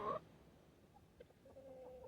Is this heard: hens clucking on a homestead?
yes